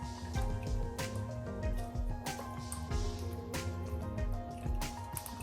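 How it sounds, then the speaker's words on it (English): Strained sorrel hibiscus drink steeped with pimento, ginger and cinnamon leaf drips and splashes, with irregular close wet drops and small squishy pours at quiet level. "I'll get right back to you guys when I'm finished straining my sorrel"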